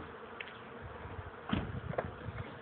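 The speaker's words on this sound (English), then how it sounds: "you'll see the bees flying back" Bees working among blooms, a faint, low buzzing drone with a few passes swelling briefly closer, quiet outdoor setting.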